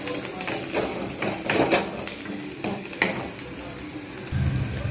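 Sliced onions soften in a frying pan with a continuous low sizzle, broken by repeated scraping and tapping of a stirring spoon against the pan.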